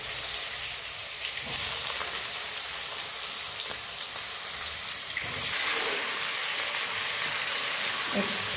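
Young ash gourd pieces sizzling in hot oil in a Bengali home kitchen, a steady bright frying hiss with faint crackles throughout, no voices.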